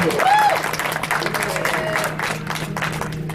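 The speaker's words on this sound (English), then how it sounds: "can we get one more round of applause for Chicago Title?" An audience at a real estate broker panel claps for a sponsor, a steady wash of applause with a brief whistle near the start and a low hum underneath, gradually easing off.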